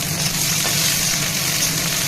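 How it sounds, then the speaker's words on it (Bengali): Garlic frying in hot oil with dried red chilli for a thick lentil dal, a dense continuous crackling sizzle heard up close and without any pause. "আমি শুকনো লঙ্কা ফোড়ন দিয়ে দিয়েছি, এখন রসুনটাও দিয়ে দিচ্ছি।"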